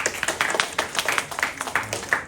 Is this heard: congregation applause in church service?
yes